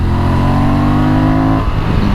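A 2023 Honda Transalp XL750 motorcycle accelerating hard on a mountain road, its engine note loud and close with a steady rising drone that drops off as the rider shifts near the end.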